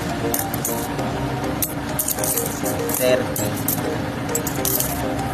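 Coins counted and dropped, small metallic clinks and jingles sounding repeatedly under a man's speech that continues throughout, with some background noise.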